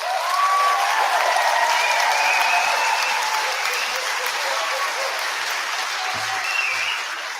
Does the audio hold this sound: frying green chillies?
no